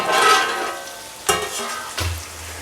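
Onions frying in a covered pan for chilli chicken, a steady close sizzle that fades, broken by two sharp metallic knocks of a lid or spoon near the end.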